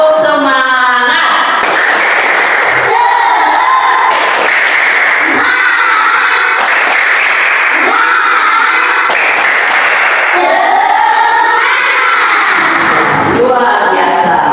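A classroom of students performs a rhythmic spirit clap, with sharp bursts of clapping in a patterned beat mixed with group chanting voices, loud and close throughout.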